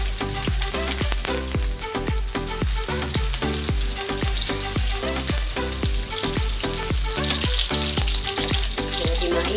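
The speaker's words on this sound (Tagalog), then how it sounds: "add in sibuyas bombay" Bombay onion tipped into a pan of hot oil for a tilapia dish sizzles loudly and steadily, with a repeating beat of music running underneath the frying.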